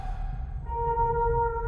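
A few sustained electronic piano-like tones ring out softly over a low background hum in the video game Fatal Frame 4: Mask of the Lunar Eclipse, a short simple melody with no voices.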